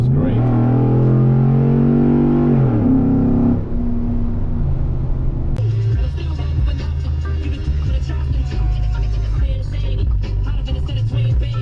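An Icebear Maddog engine revs loudly and close through an aftermarket exhaust pipe and muffler, rising and falling in repeated throttle blips, then settling into a rough, rumbling idle, with voices talking over parts of it.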